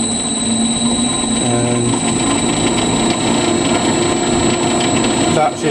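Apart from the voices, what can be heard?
emco Mat 7 lathe running, inverter variable speed coming up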